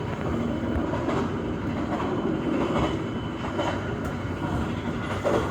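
Inside a Brawijaya passenger train carriage running on the rails, a steady, loud rumble of wheels and carriage noise fills the space continuously, with faint rhythmic clacks and no talking.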